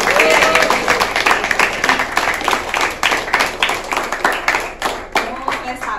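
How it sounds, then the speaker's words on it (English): Enthusiastic applause and clapping from a crowd at a college fest meeting thanking the event organizers, loud and close with dense hand claps throughout, thinning slightly toward the end. "So give a huge round of applause."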